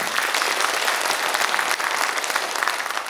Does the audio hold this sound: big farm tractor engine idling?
no